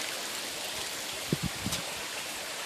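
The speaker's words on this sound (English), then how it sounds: "The water disappears here into a glory hole, what we call a glory hole, and it goes under this patio" Water from a pond water feature pours steadily into a drain beneath a patio at a Santa Fe garden, a continuous rushing splash with a few soft gurgles and plops near the middle.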